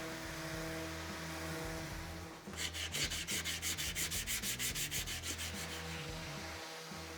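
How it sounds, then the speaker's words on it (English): Rhythmic back-and-forth finish sanding strokes on a wooden bedside table, using 120-grit sandpaper, start a few seconds in and repeat steadily over a constant low background hum. "For the finish sanding, I'll be using a 120 granite."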